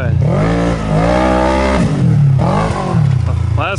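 An off-road racing vehicle's engine held under throttle during an endurance race, a loud, close roar whose pitch swells and dips as the rider feeds in and eases the throttle.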